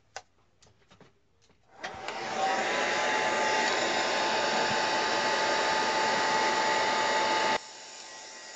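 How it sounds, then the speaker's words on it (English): A hair dryer blows steadily and loudly for about six seconds to dry paint on an art journal page, starting after a few faint handling taps and cutting off abruptly. "Let me try to blow dry again."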